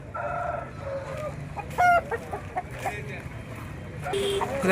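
Roosters of the aseel breed at a busy weekly poultry market in Gudur, crowing and clucking close by in short repeated bursts while people talk in the background.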